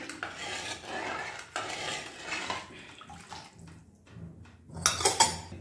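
A spoon clatters and scrapes around a pot of chickpea-greens curry with water and salt, in irregular close knocks and swirls, with louder clinks near the end.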